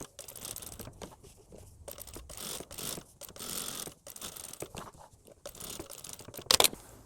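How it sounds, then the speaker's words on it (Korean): A sewing machine stitches three sides around a welt pocket on a linen jacket, giving a steady mechanical rattle in short bursts with brief pauses between runs and no talking. "이렇게 둔 상태에서 3면을 스티치 놓습니다."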